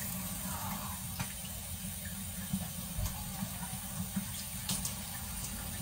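Shower water runs in a steady, close, broadband hiss and splatter, continuous throughout with faint drips and spatters on top and no talking.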